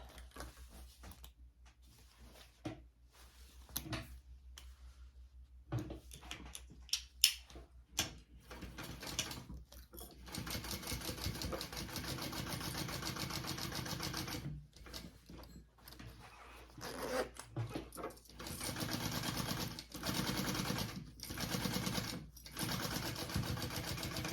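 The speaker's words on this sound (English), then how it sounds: "we will be sewing that on our full seam allowance" A sewing machine stitches a seam on a crossbody bag, starting and stopping in short bursts at first, then running in longer steady stretches of fast mechanical whirring, quiet and close.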